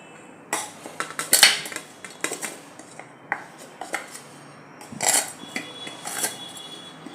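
Cooked rice-flour and semolina dough being scraped out of a pan onto a plate, a series of sharp metallic scrapes and clinks of a utensil against steel, close and moderately loud with brief pauses between strokes.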